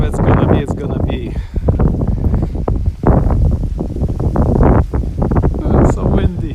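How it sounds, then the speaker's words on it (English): Heavy wind in Tokyo, Japan buffets the microphone in loud, low rumbling gusts, with voices faintly mixed in beneath the blustering. "It's so windy."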